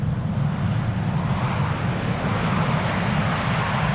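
Airliner passing almost overhead on arrival at Amsterdam Schiphol Airport, a loud, continuous broadband jet roar with a deep rumble and no talk.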